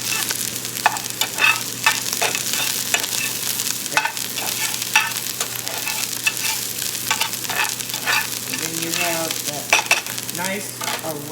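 Onions and garlic stirred in a frying pan for potato skins, a steady sizzle broken by repeated scraping strokes of the utensil, close and fairly loud, with no talking.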